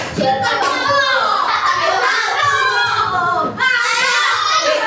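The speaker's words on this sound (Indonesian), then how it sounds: "Tepuk tangan." Children in a primary school classroom clap their hands together in a loud, sustained burst of applause with kids' voices mixed in. A brief dip comes near the end before the clapping resumes.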